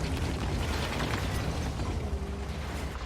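A heavy tank cannon blast from the Object 907 in a tank game, a loud booming roar that fills the short moment, with no talk.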